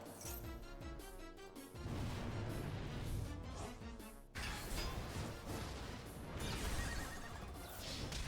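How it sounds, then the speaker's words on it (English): A horse whinny rings out as a sound effect in a digital card game duel, loud and mixed into busy game music with crashing impact effects around it. "It did make a horse sound."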